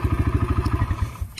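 Can-Am Maverick Sport XMR engine fitted with an aftermarket exhaust, running at a steady idle with a loud, rapid pulsing exhaust beat close by, then easing off near the end.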